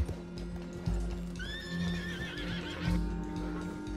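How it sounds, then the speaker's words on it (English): A horse in the Red Dead Redemption 2 video game lets out a loud, wavering whinny, with heavy hoof clops and thuds underneath. "Stupid horse."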